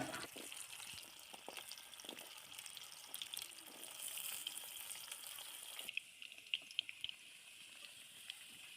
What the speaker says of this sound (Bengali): এক এক করে সব সবজিগুলো ভেজে নেব